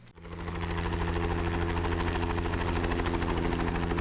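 A helicopter carrying six people starts up, then its engine and rotor settle into a loud, steady, pulsing drone, close and continuous inside the cabin.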